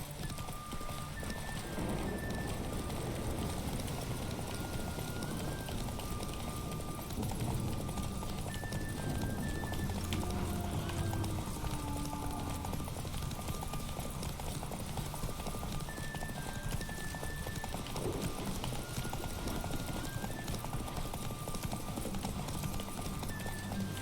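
Geralt's horse Roach in The Witcher 3 gallops in rapid, continuous hoofbeats over a busy game soundscape of ambient music and environment, with a whinny in the mix.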